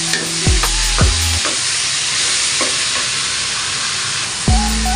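Ginger stir-frying in a hot pan for a dried fish dish, a steady loud sizzle with a few sharp scraping stirs of the spatula near the start and end, no voices.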